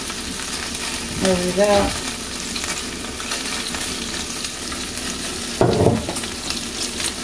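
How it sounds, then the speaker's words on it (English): Beef stir-fry sizzling in a pan of freshly added hot oil that spits, giving a continuous loud crackling hiss with a couple of brief clatters of stirring; a voice speaks briefly over it. "I just added a little bit more oil to my pan. You can tell it's hot. It's spitting at me."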